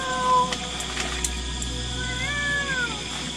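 A cat meows in a drawn-out, wavering cry, then a second rising and falling meow, fairly close and clear over a quiet background hum.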